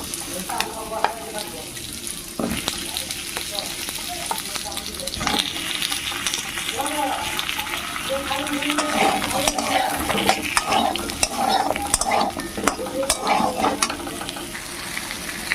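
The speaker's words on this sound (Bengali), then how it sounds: "কড়াইয়ে খুব অল্প তেল আছে আমি চিংড়ি মাছগুলো ভেজে তুলে নিয়েছি এবার কুমড়োগুলো দিয়ে দেবো" Pumpkin pieces fry in a kadai with very little oil left from frying prawns, giving a steady close sizzle broken by scraping stirs and clinks of a spatula against the pan, while a person talks over it.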